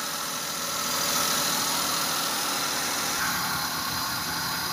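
A Maruti Suzuki Wagon R with an overheating problem idles steadily while warming up, giving a constant, even engine hum with broad hiss and no speech.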